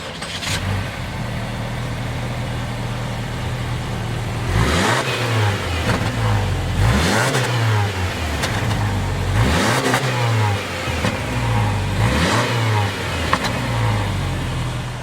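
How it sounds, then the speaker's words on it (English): A 2019 Subaru Forester engine idles low, then revs up and falls back several times in a row, close and loud, with a rough mechanical rumble underneath. "Let's go ahead and fire up these two Foresters."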